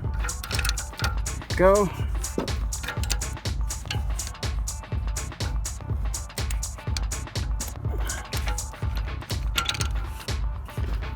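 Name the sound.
ratchet tightening car oxygen sensor, 2010 Dodge Caliber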